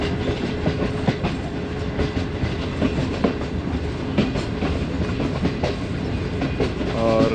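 The Awam Express train, with a new rake, travels from Peshawar to Rawalpindi, rolling steadily along the rails with a continuous loud rumble and regular clickety-clack beats from the wheels throughout.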